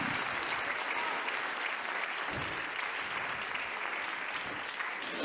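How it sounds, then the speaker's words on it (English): A church congregation claps hands together during a Bible study worship moment, producing dense, steady applause that fills the room continuously, with a voice or two faintly under it. "Let's clap our hands unto him and bless his name"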